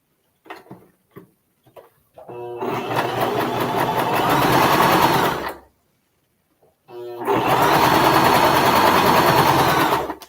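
Sewing machine stitching quilt block pieces in two sustained runs of rapid, whirring stitching, each a few seconds long, with a short pause between them and a few soft clicks before the first run; close and loud.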